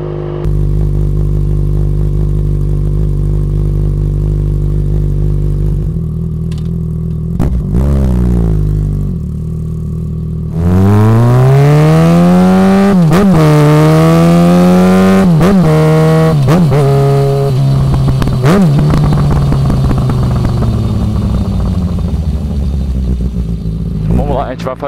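A Yamaha XJ6 motorcycle idles with a loud, deep exhaust burble up close, then revs repeatedly, the engine note climbing sharply and falling back several times before settling into a steady drone.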